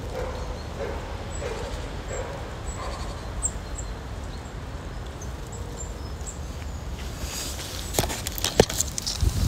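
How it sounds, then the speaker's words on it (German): A dog approaches in a park during squirrel feeding, heard as a few faint barks and light footsteps over outdoor ambience, followed by louder rustling and handling noise close by near the end. "Ah, der Hund."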